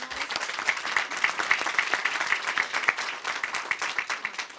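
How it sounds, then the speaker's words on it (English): Audience applause for a panel of speakers at the close of a policy briefing Q&A, a steady wash of many hands clapping that holds evenly for several seconds. "let's give another round of applause to all our panelists."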